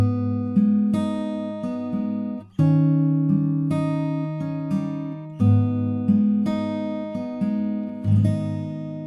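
Acoustic guitar playing the first verse of a song from The Last Of Us Part II, ringing picked notes over sustained bass chords, close and clear with no voices.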